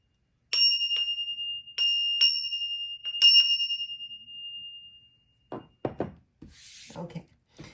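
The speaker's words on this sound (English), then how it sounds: "I'm going to go ahead and ring the bell now." A small bell rung during a tarot reading gives five clear, ringing strikes in uneven succession, each tone lingering and fading. Soft rustling and handling noises follow once the ringing dies away.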